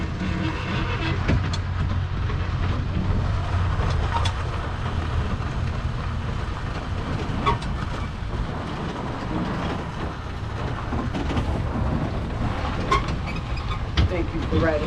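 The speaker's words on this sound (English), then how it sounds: "Thank you for riding with the Pima Air and Space Museum tram." An open-air tram ride at the Pima Air and Space Museum rolls along with a steady, loud engine rumble and rattling clatter, continuous for the whole stretch.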